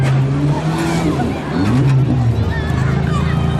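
A stock mini car slams into another car at a demolition derby, heard among continuous engine roar and tire noise with a commentator talking over it.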